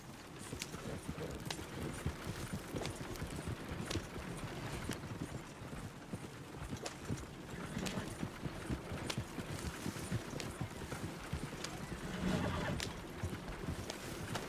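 Horse hooves clip-clop steadily at a riding pace through trees in the Red Dead Redemption 2 video game, a continuous rhythmic trot under ambient game sound, with no clear neigh standing out.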